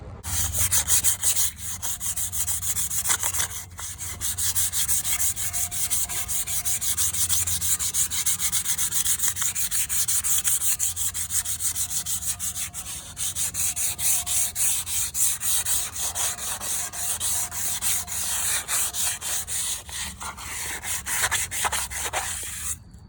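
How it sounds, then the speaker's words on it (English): Sandpaper of 220 grit rubs across a truck chassis being prepped for paint. The scratchy, steady scraping runs continuously and close up with short pauses, and nobody speaks over it. "So right now I'm hitting this with the 220."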